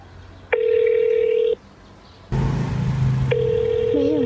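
A mobile phone call rings out with repeated ringback tones, steady one-second beeps separated by gaps, close and clear, with a brief burst of noisy voice-like sound in between.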